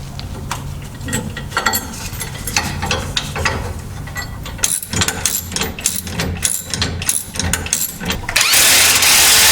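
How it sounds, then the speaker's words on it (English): A ratchet tightens bolts on a lowering-kit drop bracket for the rear suspension of a 2009-2018 RAM 1500, with loud, close, rapid clicking strokes in repeated bursts and a harsher stretch near the end. "get the bolts in, and then we can tighten them down"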